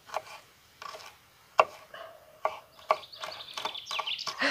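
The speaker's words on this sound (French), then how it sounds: "On va le couper tout finement" A knife chopping vegetables finely on a board for a plancha-cooked vegetable sauté, sharp separate taps at first, then quicker, denser cuts, close and clear with no talking.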